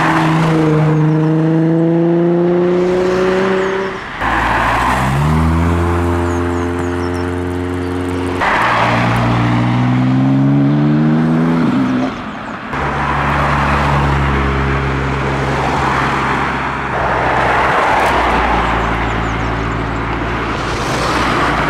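Cars leave the Castle Combe circuit after a spring action day, one after another, each engine revving up through rising gear changes and then pulling away, loud and close with no talk over them.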